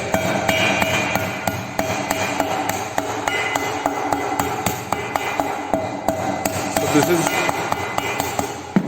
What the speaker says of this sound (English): This is wooden hammer called mallet, which he is using for folding the edge.